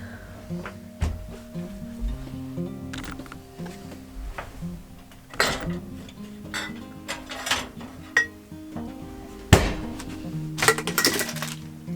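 Glass jars being set into an oven for rendering deer tallow, several sharp clinks and knocks of glass against metal racks at irregular moments, close by, between quieter handling noises.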